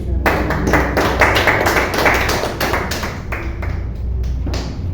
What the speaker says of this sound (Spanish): Damos fuertes aplausos a Jesús.